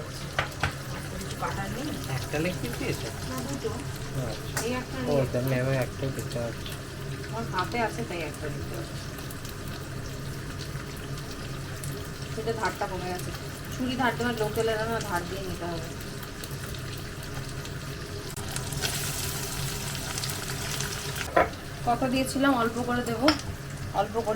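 Chicken pieces fry in a pan with a steady sizzle, while stirring, clinks and water sounds come and go and people talk over it.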